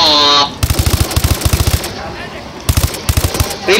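Automatic gunfire in the video game Call of Duty Advanced Warfare rings out in several rapid bursts of loud, close shots separated by short pauses, with voices talking over the game.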